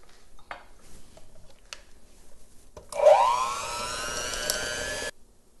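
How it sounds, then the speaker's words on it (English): Electric mixer whirring through cupcake batter, switching on after a few faint clicks and knocks, then running steadily and fairly loud for about two seconds before cutting off. "And then I'm going to continue mixing for about 3 minutes."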